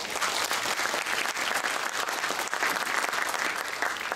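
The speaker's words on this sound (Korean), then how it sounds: "우리 찬양대 박수 한번 쳐주시겠습니다." A church congregation at a university chapel service in Seoul applauds the choir with steady, dense clapping from many hands. The applause fills the room evenly and continues throughout.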